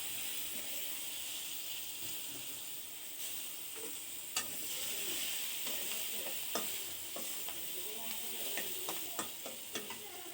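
Sliced onions and green chilies sizzling in hot oil in a pan, a soft steady frying crackle with occasional sharp clicks and scrapes of a spatula stirring, close and quiet, no voices.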